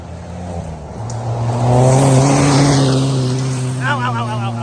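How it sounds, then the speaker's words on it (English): Race car passing a trackside corner near a bridge at a racing event, a loud engine tone rising as it approaches and sweeping past, fading into distance, with a voice heard near the end. "We got a car coming."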